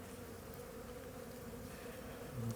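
Honey bees from a strong overwintered colony buzz around an opened hive box in a quiet outdoor setting, a low, continuous drone that is fairly faint and steady throughout and swells slightly at the very end.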